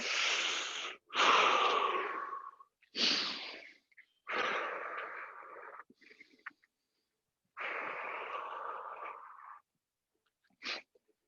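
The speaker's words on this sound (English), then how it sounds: "Sorry for breathing so loud in your ear" Loud, heavy breathing during a workout, right at the microphone: several long, forceful breaths in and out with short pauses between, ending with a brief sharp exhale.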